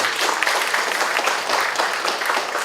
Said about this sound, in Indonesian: Coba tim WeCare berdiri, tepuk tangan untuk tim WeCare.